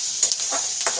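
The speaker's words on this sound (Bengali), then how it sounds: "তো কারি পাতা একটু দিয়েছি, বেশি করে দিয়েছি। এইটা একটু ভাজবো।" Curry leaves fry in a pan, giving a steady close sizzle with a few brief scraping stirs across it.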